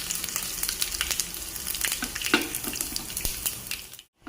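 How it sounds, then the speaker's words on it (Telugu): Mustard seeds, cumin, garlic, dried red chilies and curry leaves sizzle and crackle in hot oil for a tomato dal tempering, with steady frying hiss and scattered sharp pops throughout, close and fairly loud, with no talking. "ఇప్పుడు మనం తాలింపు పెట్టేసుకుందాము. ఆవాలు, జీలకర్ర, వెల్లుల్లిపాయ, ఎండుమిర్చి వేసి"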